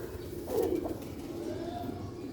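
Sialkoti rooftop pigeons give a soft, low coo or two, close by against a faint background murmur.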